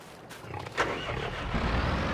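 Tractor engine in Farming Simulator 22, a low running motor rumble with a brief rising surge, moderately loud and continuous.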